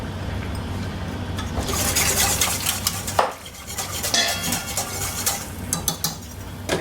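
Diced red bell pepper and celery being stirred into a pan of gravy, with steady scraping and clinking of a utensil against the pot and a soft background hum, no talking.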